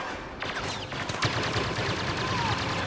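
Blaster gunfire during a match of the video game Star Wars Battlefront: a rapid string of sharp, zapping shots with short sweeping tones, fairly close and loud, with a voice faintly present underneath.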